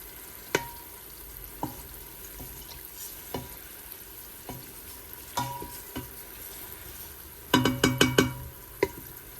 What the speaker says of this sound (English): It's simmering properly, and the oil's kind of getting infused with all the ingredients that were there before.